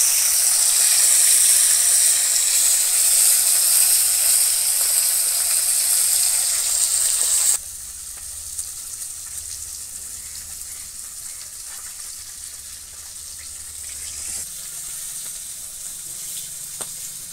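Pieces of fresh pond fish fry in oil with a loud, bright sizzle that suddenly drops to a quieter, softer crackle midway and continues evenly to the end.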